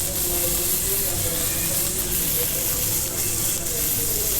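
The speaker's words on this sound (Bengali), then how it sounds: "এখন আমরা চিংড়ি মাছগুলো সুন্দর করে পেঁয়াজের সাথে ভেজে নিয়েছি বাটার দিয়ে।" Shrimp fry with onion in butter, a close, continuous hiss and sizzle that stays even and unbroken throughout, with no voices.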